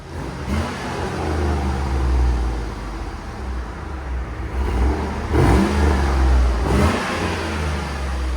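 A 2008 GMC Yukon with a 5.3-liter V8 on its stock exhaust idles with a deep rumble, then revs up sharply twice near the end, each blip climbing and falling back, loud and close with no talking.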